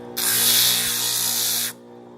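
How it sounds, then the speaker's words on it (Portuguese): A disc sander shaping old wood into car parts gives a steady, loud abrasive whir with a hissy grinding edge for about a second and a half, then cuts off, over a low motor hum. "aí você usa a lixadeira de disco aí para poder acertar"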